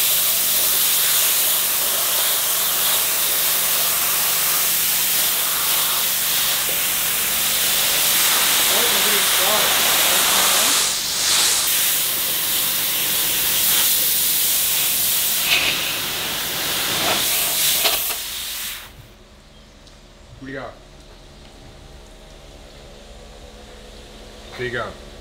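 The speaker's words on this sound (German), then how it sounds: "Dampfschalter und los geht's." A steam cleaner hisses loudly and steadily for about eighteen seconds as it strips paint off a BMW E36 323i, then cuts off, leaving a quiet room with a few faint knocks and voices.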